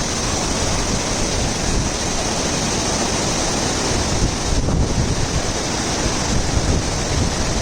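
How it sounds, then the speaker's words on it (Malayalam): A rushing forest stream at Nakshatra waterfall in Mankulam, Idukki, pours out a loud, steady roar of white water that fills the whole stretch without pause. "കാട്ടാറിൻ്റെ ഗദല ശബ്ദം"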